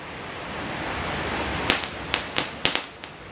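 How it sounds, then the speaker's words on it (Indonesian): Kretek firecrackers lit in the rain going off in a quick series of about five sharp cracks and pops over steady hissing rain noise. "Selanjutnya ini ada mercon kretekan. Kita nyalakan."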